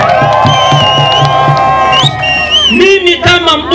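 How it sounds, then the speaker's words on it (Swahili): A political rally crowd cheering for Samia, a loud sustained roar with whoops and shouts, voices rising and swelling together close by. "Makofi kwa Samia."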